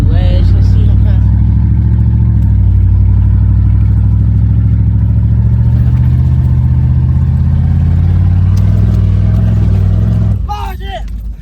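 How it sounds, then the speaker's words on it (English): Pickup truck engine revving loudly and steadily as it speeds across a field toward a small ledge for a jump, close and continuous, then dropping off abruptly at the end with brief voices. "we're going to be jumping the truck and doing a donut"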